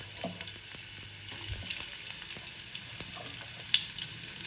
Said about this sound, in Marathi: तर थोडंसं कांदा टाकलाय, तर तेल झालंय गरम.